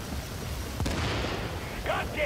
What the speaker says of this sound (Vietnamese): cái súng nó cứ bắn mình vậy ta